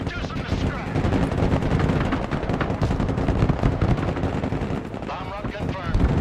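Dense, continuous barrage of gunfire and rumbling explosions from a bombing run in a shooter video game, loud and sustained throughout with a voice speaking faintly under the din.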